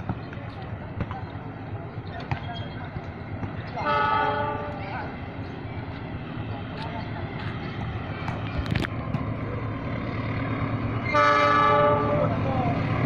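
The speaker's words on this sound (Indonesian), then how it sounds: "Kereta api Batubara isian." Loaded coal freight train hauled by locomotive CC 201 through Nambo line, rumbling steadily past with two blasts of its horn, the second loud and near near the end; voices talk over the rolling noise.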